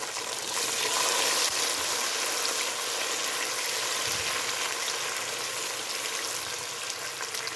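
Tomatoes hit hot oil with frying onions for chicken haleem, giving a loud, dense, steady sizzle and crackle that fills the clip with no talking.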